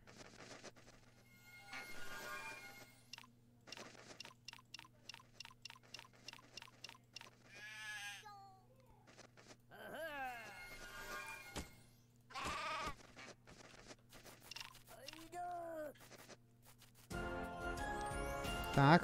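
Sheep bleats in the game Craft The World: a rapid run of short, wavering bleats near the start, then longer quavering cries later, alone over a steady low background hum.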